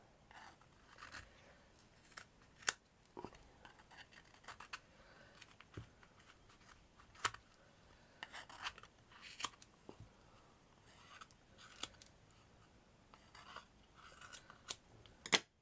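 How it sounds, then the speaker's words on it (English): Faint scissors snip repeatedly at paper while making Christmas tree decorations, sharp little cuts in irregular bursts with quiet pauses between. "all you have to do is take your scissors up to the end, cut"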